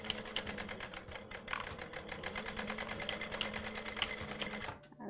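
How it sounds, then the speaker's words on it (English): A sewing machine stitches a fabric pouch in a steady, fast rapid rattle close up, running continuously before stopping abruptly near the end. "I just backstitch over there."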